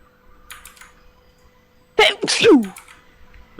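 One loud, sharp sneeze bursts out close to the microphone during an iRacing sim-racing stream, preceded by quiet keyboard clicks in an otherwise hushed room.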